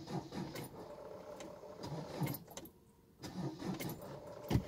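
A car with a dead battery fails to start: faint, repeated clicking and a brief jangle of keys, quiet and close, with no engine catching and no talking.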